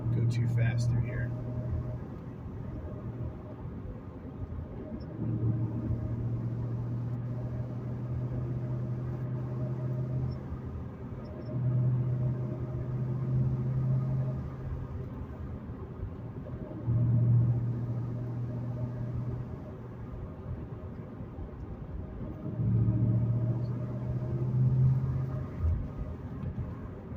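A 2008 Mustang Bullitt cruising steadily at 35 mph gives a low, continuous interior engine and road rumble that swells slightly at times, while someone talks over it throughout.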